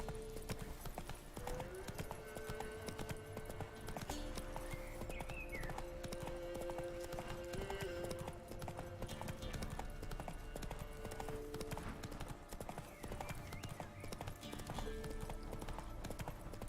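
Horse hooves clip-clop steadily in The Witcher 3: Wild Hunt, a continuous rhythmic trot with game music tones and an occasional whinny underneath.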